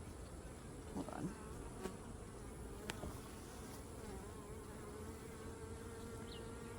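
Honey bees hum steadily around an open hive as frames of brood, pollen and eggs are inspected, a dense close buzz running throughout with a few brief louder passes of individual bees.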